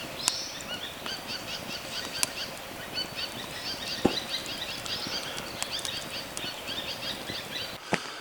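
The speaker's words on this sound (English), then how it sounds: "Just listen to some of these beautiful bird sounds." Faint birdsong drifts over a steady outdoor hiss, scattered chirps and tweets from distant birds, with a few sharp clicks standing out.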